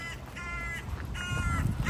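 A crow caws repeatedly outdoors, several harsh calls spaced out over steady low background rumble, moderately distant.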